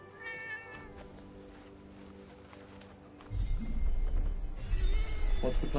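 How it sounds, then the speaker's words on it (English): A cat meows and caterwauls, a long drawn-out wavering cry early on, then louder rumbling movement and noise with further yowls near the end. "A cat."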